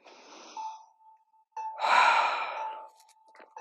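Deep, audible breath drawn in and let out during a yoga core workout. Close and fairly loud, alone over near silence, followed by a faint hum.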